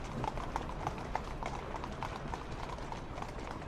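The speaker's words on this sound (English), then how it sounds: "The teeming metropolis of London is overflowing with pedestrians and horse-drawn traffic." Horse hooves clip-clop in a steady, even rhythm on a street amid horse-drawn traffic in 1868 London, moderately near over a dense background murmur.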